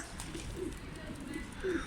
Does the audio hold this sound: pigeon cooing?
yes